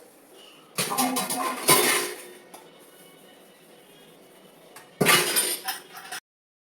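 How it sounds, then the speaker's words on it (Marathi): Dishes and utensils washed quickly in a modular kitchen sink, with loud bursts of clattering and clinking at the start and again near the end, close by and without talking. "आता मी आता पटापट भांडी धुवून घेते."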